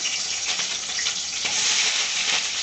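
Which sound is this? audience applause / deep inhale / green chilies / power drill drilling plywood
green chilies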